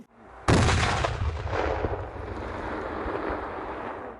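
A sudden loud blast erupts close by during a marine training exercise, followed by a long rumbling roar that slowly fades, with a few sharper cracks of gunfire inside the decay.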